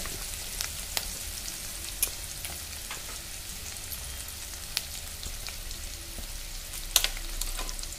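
Green chillies, curry leaves, garlic and ginger fry in oil for dal khichdi, giving a steady close crackling sizzle with occasional sharp pops and a clink of the spoon.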